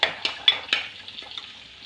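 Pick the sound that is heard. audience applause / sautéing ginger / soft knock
sautéing ginger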